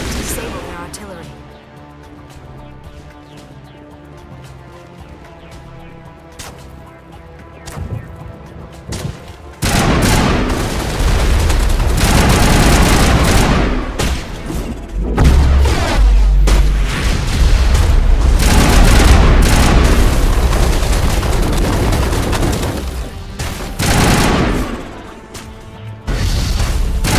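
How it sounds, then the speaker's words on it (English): Heavy artillery fire and explosions in the Mass Effect game on Virmire, beginning quietly with a sparse booming ambience, then erupting into loud, dense, continuous blasts and rumbling impacts that persist over the scene, with voices talking beneath. "We must find a way to disable their artillery."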